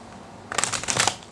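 A deck of tarot cards is shuffled up close in a quick riffle of rapid flapping clicks lasting under a second, without any talking.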